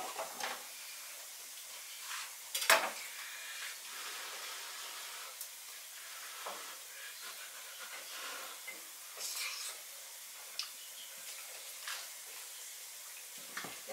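Onion frying in a pan, a steady soft sizzle and hiss with occasional scrapes and clinks of stirring, close by and with no talk.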